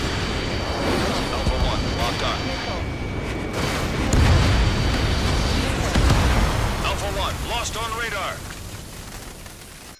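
Missile explosions in the jet combat game Ace Combat 7, flying an Su-35S in multiplayer: deep rumbling booms and bursts swelling in the middle, mixed under warbling tones and radio voices.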